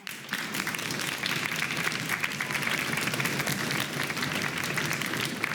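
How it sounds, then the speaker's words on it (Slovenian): A school quiz audience applauds both competing teams at a Slovenian primary-school contest. The clapping is thick and sustained, running without a break from start to finish. "En aplavz za obe ekipi."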